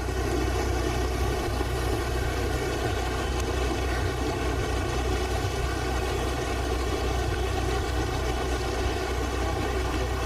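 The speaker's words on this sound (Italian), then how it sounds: "È ripartito il motoscafo dopo una piccola sosta" A motorboat heading toward Venice drones steadily with a constant engine hum and water noise, unchanging throughout with no voices.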